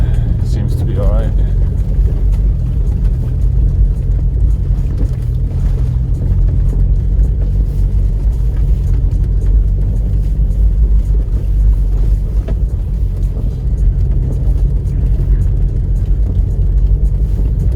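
A Land Rover Freelander Td4 diesel grinds slowly along a rocky lane in a steady, loud, low engine rumble with tyre crunch and cabin noise throughout.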